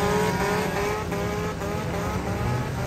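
Several dirt-track race cars roar off together at the start of a B-Main heat on championship night, a loud, sustained wall of engine noise with layered revving tones and no pauses.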